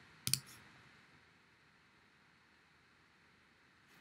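A computer mouse clicks to publish a Mailchimp landing page: one crisp double click near the start, with a faint click at the end, over a low steady background hiss.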